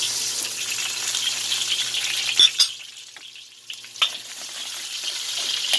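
Garlic and onion sizzle steadily in a hot pan, a bright continuous frying hiss broken by a few sharp scrapes and clinks as they are stirred, with a short quieter stretch midway.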